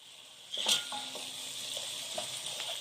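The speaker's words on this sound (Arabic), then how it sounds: "هشوح البصله بتاعتي كده على خفيف" Onion sautéing in a pot, a soft continuous sizzle with a sharp utensil clink near the start and light stirring scrapes afterward, fairly quiet and close.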